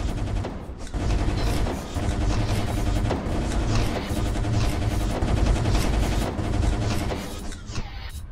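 Rapid weapon fire in the VR shooter game Run of Mydan, a dense, loud, continuous barrage of gunshot-like blasts and booms filling the whole stretch without any talk over it.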